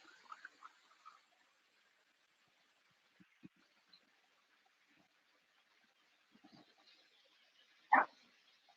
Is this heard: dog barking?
yes